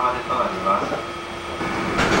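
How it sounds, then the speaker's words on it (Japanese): A train rumbles out of Toyohashi Station with a steady low drone and rising rail noise, close and continuous, while someone talks over it. "今この列車が豊橋を出て場所が空きましたので"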